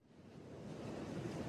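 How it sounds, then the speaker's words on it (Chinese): Big ocean waves surging at sea in an animated story, a brief rush of surf and wind that swells steadily louder, with no voices. "没想到中途遇到大浪"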